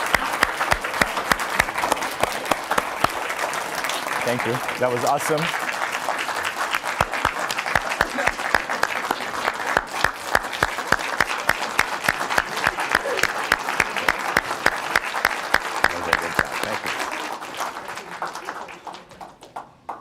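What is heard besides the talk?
audience applause at dedication event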